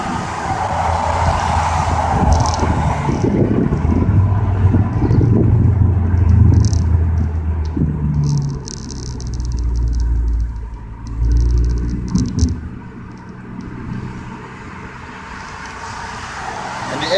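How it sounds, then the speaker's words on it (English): Ford Focus ST fitted with a Steeda intake pipe, intake roaring under load as the engine revs while driving on the road, a loud, sustained low rumble rising and falling with throttle over steady cabin and road noise. "And the intake sounds amazing."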